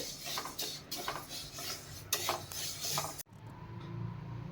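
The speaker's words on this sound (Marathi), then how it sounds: "तीसुद्धा मंद गॅसवर छानपैकी भाजून घ्यायची आहे" Moong dal dry-roasting in a pan over a low flame, with a spatula scraping and stirring the lentils in rough irregular strokes, close and fairly quiet, ending abruptly.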